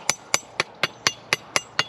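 A shovel used as a hammer strikes eight times in a quick, steady rhythm, each blow sharp and close with a brief ringing decay.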